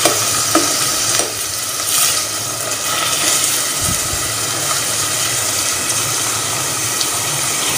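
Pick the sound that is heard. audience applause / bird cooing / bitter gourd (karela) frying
bitter gourd (karela) frying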